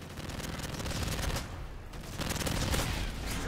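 Sustained bursts of automatic fire rattle through a video game shooter, heavy and close, with a brief lull in the middle before the volleys resume at full loudness.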